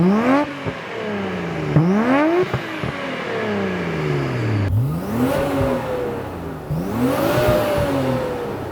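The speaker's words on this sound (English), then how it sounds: "gonna have Richard get some clips of it revving." A Mine's-tuned Nissan R32 GT-R engine revs repeatedly, sharp rising-and-falling roars in quick succession, loud and close, with no voices.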